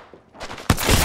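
Gunfire in the Apex Legends video game: after a quieter opening, a loud, dense burst of rapid shots erupts and keeps going, close and continuous.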